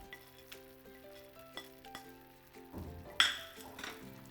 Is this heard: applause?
no